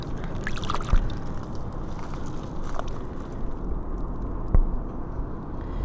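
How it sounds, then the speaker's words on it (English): A small mudlarking find from the River Thames is rinsed in water, giving a close, continuous sloshing and splashing with a couple of brief knocks. "Let's give it a rinse."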